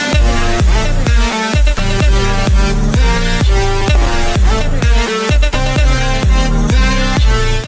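An EDM drop with a vocal hits loud and dense, a pounding four-on-the-floor kick and thick synth chords repeating in a steady rhythm throughout.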